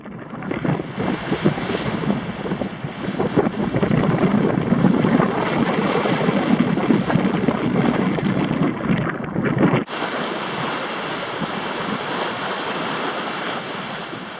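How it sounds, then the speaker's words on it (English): Sailboat running south in a steady breeze, with loud, constant wind rushing over the microphone and water washing along the hull, a dense unbroken roar that drops slightly toward the end, with no voices. "We sail in a steady breeze towards the south."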